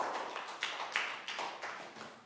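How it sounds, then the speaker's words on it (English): A Year 3 English class claps for a pupil, a short run of soft, uneven bursts from a small group of children that lasts about two seconds. "Big round of applause for Bang Pon."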